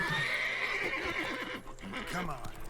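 Horse in The Witcher 3: Wild Hunt (Blood and Wine) whinnies loudly at close range, followed by clip-clopping hooves, under game background sound and a voice talking over it.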